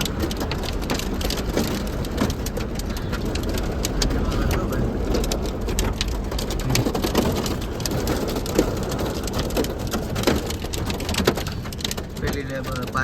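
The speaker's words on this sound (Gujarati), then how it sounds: "એટલો ફૂલ વરસાદ બરફ" Dense, steady drumming of heavy rain on a car, loud and continuous, with faint voices underneath, on the road from Bhimtal to Nainital.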